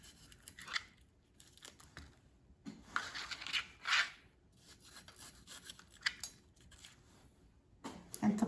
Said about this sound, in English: And now you can cut off more membranes.